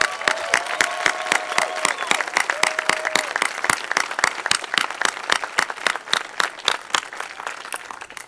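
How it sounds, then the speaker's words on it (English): Audience applause for Mayor Coleman at a Columbus press conference, a dense steady roar of claps close and loud, with a few voices speaking beneath it early on. "Let's give Mayor Coleman a round of applause as well."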